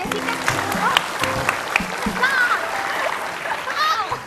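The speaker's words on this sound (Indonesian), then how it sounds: "Tepuk tangan dong buat Jessica" Studio audience at a television talk show breaking into applause, dense clapping under a host's talk and a few crowd voices, fairly loud and close.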